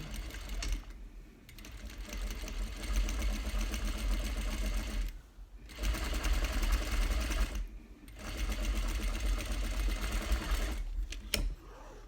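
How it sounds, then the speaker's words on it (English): A sewing machine edge stitches a French seam on fabric, running in steady fast bursts of whirring needle rhythm separated by short pauses, close and clear. "So as I'm edge stitching, I gotta make sure that seam is actually open."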